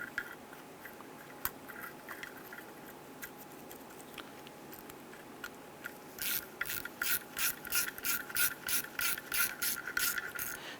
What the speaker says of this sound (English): I'm going to go ahead and thread our bolt in